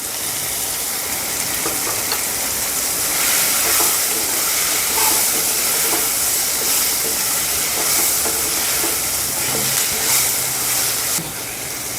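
Leafy greens sautéing in a pan, giving a steady broadband sizzle and hiss that runs continuously at close range with scattered crackles and no talking.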